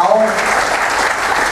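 Audience applause for a married couple celebrating 50 years, on a cruise ship show, a dense steady wash of clapping throughout, with a brief voice at the start.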